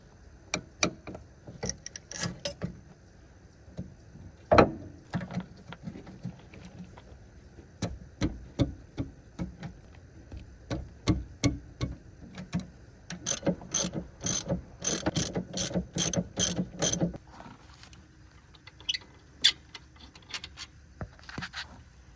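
A ratchet wrench works at breaking loose the rear brake bolts on a 2013 Toyota RAV4, with bursts of rapid clicking from the pawl interrupted by sharper knocks and short pauses, close up and without speech.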